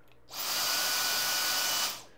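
Dyson DC44 Animal cordless vacuum switched to max: one steady, hissing motor whine that spins up, holds for about a second and a half, then winds down, alone and moderately loud.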